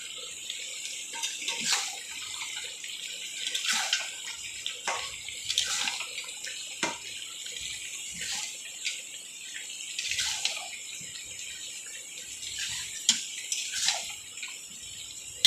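Water is poured into a pot of braised meat and potatoes on the stove, giving a close, running splash with intermittent gurgles and drips over about fifteen seconds.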